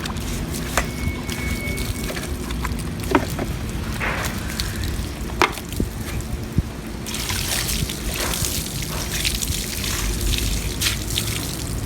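Water is poured over a car wheel with its mag rim and brakes, running and trickling steadily with occasional drips and splashes, moderately loud and continuous, with no talking.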